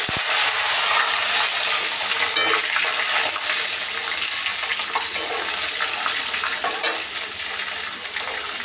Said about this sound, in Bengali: এখন দিয়ে দেবো এই তেলের মধ্যে কাঁচা আমটা।